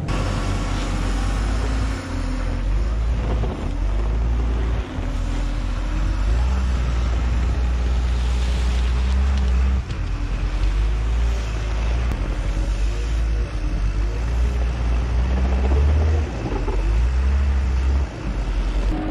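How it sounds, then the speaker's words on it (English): A loader's diesel engine rumbles loud and close, pushing dirt back along the banks of a silage pit, with gusts of wind buffeting the microphone and no talk. "we're just gonna push that back with the loader"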